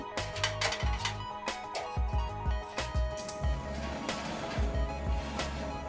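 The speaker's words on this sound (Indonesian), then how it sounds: "sebaiknya pindah posisi loyang dengan cara diputar balik seperti ini" A metal baking tray of eggless cookies is turned around inside a hot oven, giving a string of close, sharp metallic clanks and scrapes with short pauses between them.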